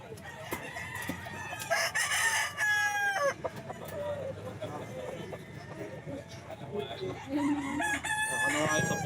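A bulik rooster crows repeatedly at a busy pet market, its calls loud and nearby, mixed with clucking fowl, background chatter and voices talking over the scene.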